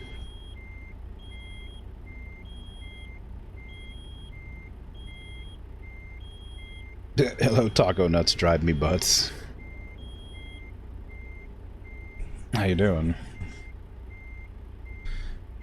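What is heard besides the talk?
truck beeping in American Truck Simulator video game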